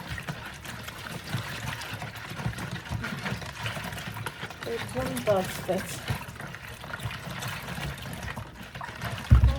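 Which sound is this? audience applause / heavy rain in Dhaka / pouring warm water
pouring warm water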